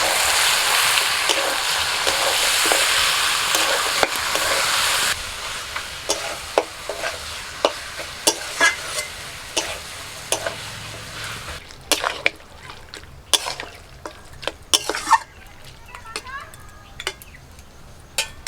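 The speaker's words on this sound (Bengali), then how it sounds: "চিকেনটা একটু নাড়াচাড়া করে নিয়ে" Chicken with turmeric and green chilli paste fries in a pan under a loud sizzle that drops away midway, leaving a string of sharp scraping stirs and clacks from a spatula, close and uneven.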